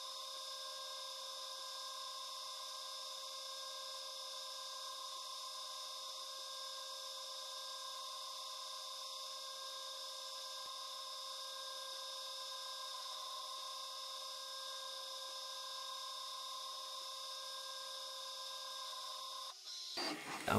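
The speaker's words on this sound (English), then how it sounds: "Now we're switching to the chamfer mill and we're just gonna chamfer every single edge we just cut." A CNC machine runs a chamfer mill along the edges of a machined tray part, producing a steady, even high-pitched whine that stays constant and fairly quiet before it stops near the end.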